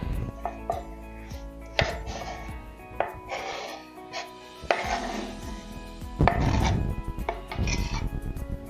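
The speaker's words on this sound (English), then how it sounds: "chop this lemon in half, and then we're done with the cutting board" A knife chops through a lemon on a cutting board in a kitchen, a series of sharp, close knocks at an irregular rhythm with clattering board and utensil sounds between them.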